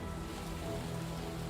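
Rain in the Cyberpunk video game trailer, a steady dense wash of falling rain with a low hum beneath, constant and moderately faint.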